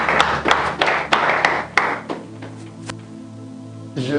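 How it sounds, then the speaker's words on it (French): Congregation applauding at a church service, a series of sharp, fairly close claps in a loose rhythm over about three seconds before trailing off, followed by a brief voice. "Acclamons pour la parole. Let's come to the word of God."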